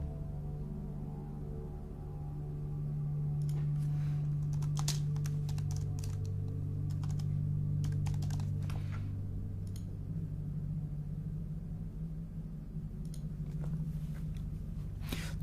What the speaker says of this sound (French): C'est un clavier silencieux, c'est un Illuminated Keyboard